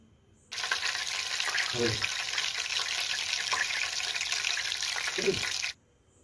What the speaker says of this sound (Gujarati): આપણે ઘીને ગરમ કરીએ છીએ ત્યારે તેના પાણીનો કેવો અવાજ આવી રહ્યો છે